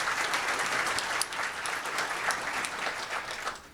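An audience at a city chamber State of the City event claps steadily in a dense, even round of applause that fades slightly toward the end.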